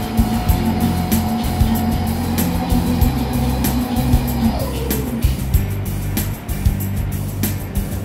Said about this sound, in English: we're just dynoing it to see what kind of valving the standard shock absorber has. It's just going through its speed test.